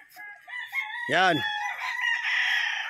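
A rooster crows loudly and clearly among many chickens on a hillside farm, one full cock-a-doodle-doo rising over other birds' calls, with someone speaking briefly.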